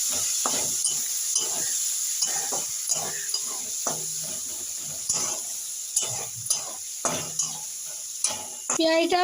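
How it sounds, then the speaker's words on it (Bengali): Chopped onions hit hot oil for a curry of cauliflower, potato and egg, giving a steady close sizzle with repeated spoon-stirring scrapes and pan clinks, ending in a burst of bright clatter. "আগে থেকে কুচিয়ে রাখা পেঁয়াজের টুকরোগুলো দিয়ে দেবো তেলের মধ্যে"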